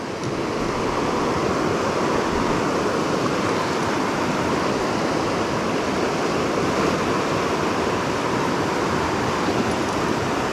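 River rapids rush in a steady, loud, close roar of churning water on a remote river, continuous and unbroken with no voices over it.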